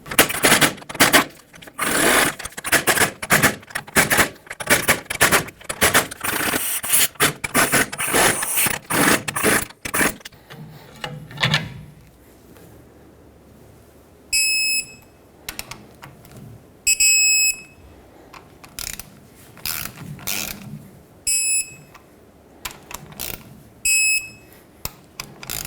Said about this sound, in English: I'm going to loosen them up, torque them, and then additional 90 degrees after that